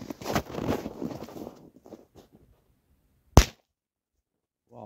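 Corsair 3 firecracker set off standing upright, a single sharp loud bang cutting through near silence after a stretch of nearby speech.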